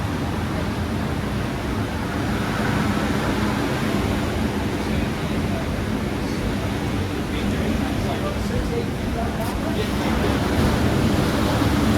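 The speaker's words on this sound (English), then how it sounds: "As I open this gate, the water's going to come up a foot." Water rushes steadily as a lock gate opens on a canal near the Peterborough Lift Lock and Buckhorn, a broad continuous roar with faint voices talking in the background.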